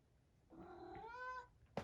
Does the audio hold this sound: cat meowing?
yes